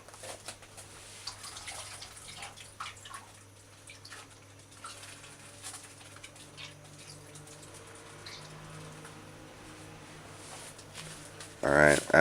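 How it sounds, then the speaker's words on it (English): Water is poured over fish balls in a kitchen to rinse them: a steady, moderate splashing wash that runs throughout, ending in a brief louder clatter. "so you just pour water over the fish and just throw it off"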